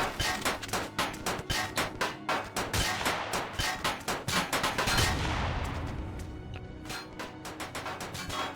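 Base defense turrets in Empyrion fire rapid, evenly spaced heavy shots for about five seconds, close and loud, then give way to a fading rumbling wash.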